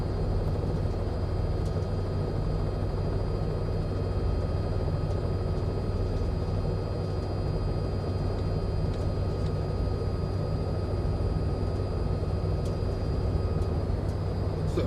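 A Robinson R66 helicopter hovers in the MSFS2024 flight simulator, its engine and rotor making a steady, even drone with a low hum and a faint high whine that continue unbroken throughout.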